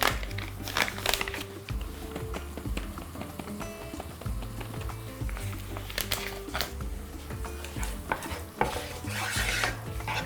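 Onions frying in a pan for a vegetable pilaf, seasoned with salt, sugar, baking soda and turmeric; a steady close sizzle runs under repeated scraping and stirring strokes against the pan, with no talk.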